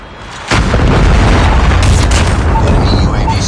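A missile explosion in a Call of Duty video game: after a quiet start, a sudden loud boom gives way to a sustained roar of blast and rumble, with voices in the mix.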